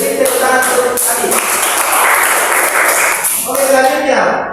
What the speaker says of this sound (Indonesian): beri tepuk tangan untuk Abi